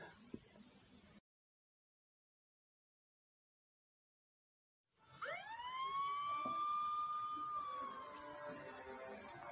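A police siren fades in after a silent stretch, then wails in a rising, sustained sweep that stays fairly quiet, as if heard from a distance.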